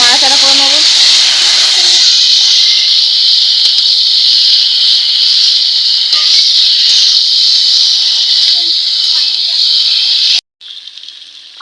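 Potatoes frying in hot spiced oil in a pan for a Bengali rui fish curry, giving a loud, steady sizzling hiss that runs almost throughout, with faint stirring clatter and a brief drop near the end.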